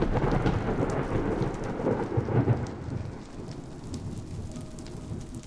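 Video game thunderstorm: a deep rolling thunder rumble over steady rain, strongest early and then easing into constant patter, with no voices.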